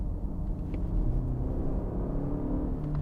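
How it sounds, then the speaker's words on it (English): A 2020 Mercedes-Benz GLE 350 4MATIC in sport mode gives a steady, low engine drone and rumble heard from inside the cabin, holding a raised rev level for a few seconds with no voices over it. "RPM level just rose a little bit, and it's going to hold those shifts a little bit longer."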